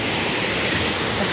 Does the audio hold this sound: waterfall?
yes